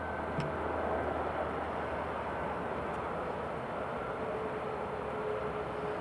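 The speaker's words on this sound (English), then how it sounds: "Now the Norwegian is taxiing in." Norwegian airliner taxiing in at Newcastle International Airport, a steady low engine rumble and broad jet whine held at a constant level from a distance, with no voices.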